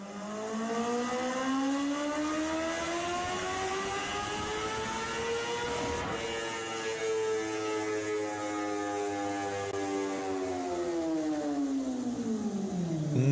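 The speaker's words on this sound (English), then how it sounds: "Its soul ignited by the ferocious roar of a ZX10R engine." A 1993 Kawasaki ZX7 750 motorcycle fitted with a ZX10R engine screams with a loud, continuous high-revving whine. The pitch climbs steadily, drops abruptly partway through, then rises again.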